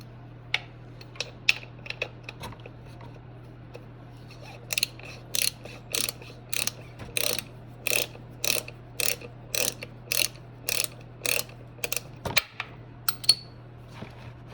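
Ratchet clicking steadily while loosening the oil drain plug on a Harley-Davidson Road King, a run of sharp, evenly spaced close clicks over a low steady hum, fainter irregular clicks first.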